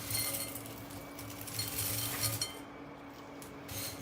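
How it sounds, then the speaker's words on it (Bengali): Crispy fried garlic pieces are handled on a strainer, making light scattered clinks and rustles over a faint background hum. The sound is quiet and close and comes in small irregular bursts. "আওয়াজ শুনেই বুঝতে পারছেন রসুনগুলো কতটা বেশি ক্রিস্পি হয়েছে"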